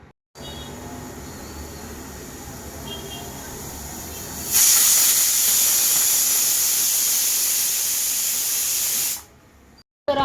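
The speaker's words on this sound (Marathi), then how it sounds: "आणि आता आपल्याला याच्या 7 ते 8 शिट्ट्या काढून घ्यायच्या।" A pressure cooker of pav bhaji on a stove hisses steadily, then bursts into a loud, sharp whistle of escaping steam lasting several seconds before cutting off abruptly.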